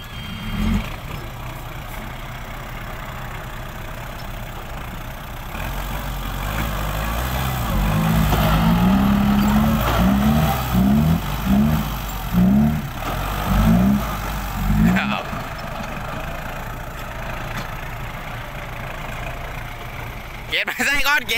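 A tractor engine idles on uneven ground, then revs in a series of rhythmic surges before dropping back, loud and close, with people talking over it.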